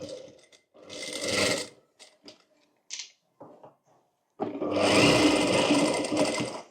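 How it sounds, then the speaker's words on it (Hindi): A sewing machine cross-stitches a front-hook princess-cut blouse in two loud, steady runs, separated by a pause filled with brief handling clicks and rustles. "तो यहाँ पर हमें क्रॉस सिलाई लेनी है।"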